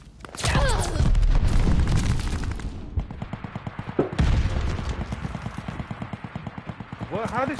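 Call of Duty: Vanguard gunfire on PS5 in a hardcore team deathmatch: sustained automatic bursts rattle loud and close in rapid, steady repetition, with players talking over them.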